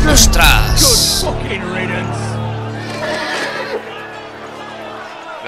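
Horse neighing loudly in the Telltale Game of Thrones video game, a sharp whinny at the start fading into rumbling, hooves and background commotion, with a voice talking over it.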